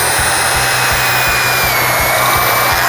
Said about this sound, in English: Let's throw on some protective clothing, and let's get to drilling.